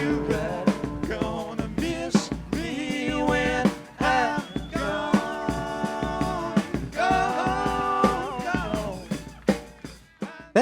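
Concert recording from Des Moines in 1973, with a drummer playing a mahogany thermoglass Ludwig kit and a Rogers Super 10 snare within a full band mix of guitars and keys, loud and continuous.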